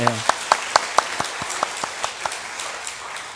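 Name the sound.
congregation applauding in church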